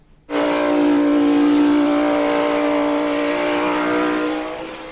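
A 600 horsepower super gas drag racing car engine roars to life and holds a loud, steady, throaty rev for several seconds before easing off slightly.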